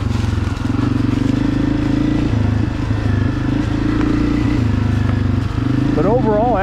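A Honda CRF250F dirt bike rides a fall trail, its engine a loud, steady buzzing drone that stays close throughout, with a voice talking over it.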